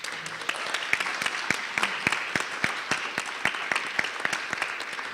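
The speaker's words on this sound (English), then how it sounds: "So please, a round of applause for those students." An audience applauds students at a public health panel event on gun violence prevention, a steady patter of many hands clapping at moderate loudness with no voices over it.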